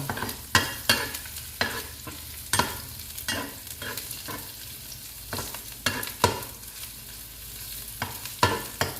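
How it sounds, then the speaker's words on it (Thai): Garlic frying in a pan for stir-fried noodles, with a low constant sizzle punctuated by regular sharp scrapes and knocks of a spatula stirring, close and without talk. "ก็จะเจียวกระเทียมให้หอม"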